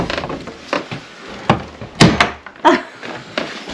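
A door in an abandoned military house is pushed and knocked against several times, a series of loud wooden thuds and bangs close by.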